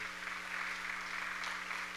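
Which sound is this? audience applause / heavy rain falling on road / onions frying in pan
audience applause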